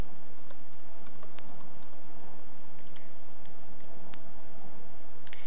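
Keys tapped on a computer keyboard while a PayPal email address is entered for an online store setup, a quiet run of close, irregular clicks with a few sharper strokes.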